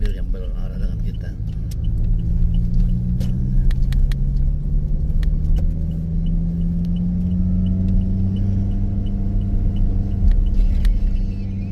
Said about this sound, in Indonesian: berpapasan dengan mobil yang berarah dengan kita